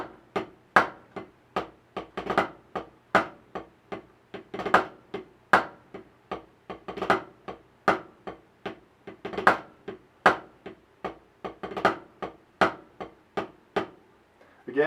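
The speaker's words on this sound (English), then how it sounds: "So following suit, we're going to have a 4-stroke rough double paradiddle," Snare drum rudiment practice, a double paradiddle with four-stroke ruffs: sharp, close strokes repeating in a steady cycle, each group opened by quick grace-note flurries before louder accents.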